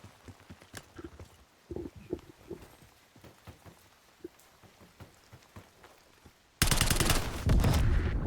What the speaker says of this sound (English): We'll have some gunfights.